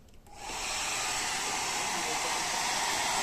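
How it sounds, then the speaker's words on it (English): A hair dryer powered through an MCB switches on and settles into a steady, loud whooshing hiss that continues without a break. "Now I will switch on this dryer."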